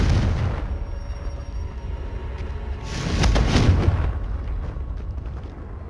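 A Confringo fire spell bursts in Hogwarts Legacy gameplay, heavy rumbling booms over a low roar, with one loud blast swelling in the middle before fading back into the game's background noise.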